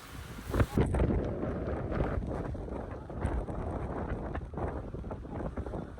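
Strong wind with rain at Tilari Ghat buffets the microphone in a loud, continuous roar with gusty surges, rushing noise throughout.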